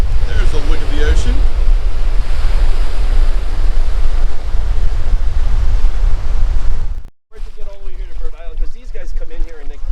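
Ocean surf and strong wind roar along a rocky coast near an island off the Carolina shore, loud broadband wash with heavy wind buffeting the microphone, briefly cutting out before resuming with a voice talking over it.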